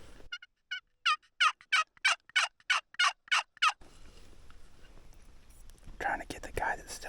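Wild Rio Grande turkey gobbling from the roost during a Colorado spring hunt, a rapid series of about ten loud, close gobbles in quick rhythm, followed by quieter woodland rustling and movement.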